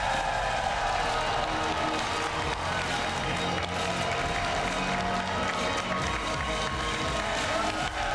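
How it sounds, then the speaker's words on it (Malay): A studio audience on a Malaysian money-drop game show claps steadily for about eight seconds. The applause sounds as a dense, even wash with a crowd murmur behind it, and no voice speaks over it. "Tepukan untuk Azdi Yan Yaakob."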